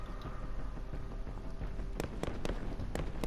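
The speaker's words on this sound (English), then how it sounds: "You can see where the gunfire is coming from" Gunfire in the video game Modern Warfare as lights are shot out, several sharp cracks in a quick irregular burst over a dense rumbling background, fairly distant and not very loud.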